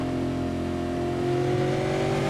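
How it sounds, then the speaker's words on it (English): A V8 Supercar engine drones steadily in a sim racing game at Suzuka, a sustained mid-pitched whine with the note rising slightly as it accelerates, with no voices. "Tyres and curbing and engine are all up a fair bit"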